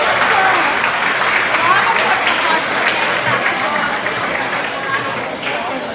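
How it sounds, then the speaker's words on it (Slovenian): A large audience claps loudly for the main award winner at a Ljubljana anniversary celebration, a dense, continuous wash of applause close by that eases slightly toward the end, with faint voices mixed in. "En velik aplavz za našo glavno nagrajenko,"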